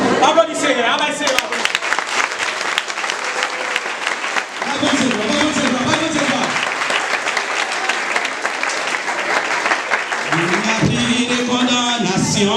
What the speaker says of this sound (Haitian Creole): Applaudissez, applaudissez.